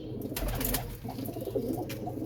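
Champion pigeons cooing at close range in a loft, several soft, low murmuring coos repeating over a steady background hum, with no talk.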